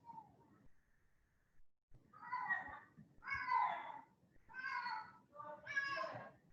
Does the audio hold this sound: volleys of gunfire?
no